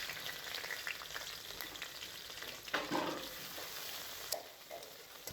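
Chopped onions and prawns frying in hot oil, salted, giving a soft continuous sizzle with occasional stirring scrapes and a couple of brief clatters; fairly quiet and with no talking.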